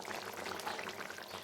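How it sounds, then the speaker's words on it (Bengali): Bengali tel koi fish curry simmering in a covered pan on a gas stove, giving a steady, soft bubbling hiss that runs continuously and fairly quietly with no talking. "এখন আমি মাছটাকে ঢেকে রেখে কিছু সময়ের জন্য ফুটিয়ে নেব।"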